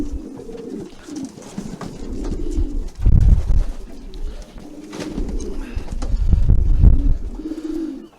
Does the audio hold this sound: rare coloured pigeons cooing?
yes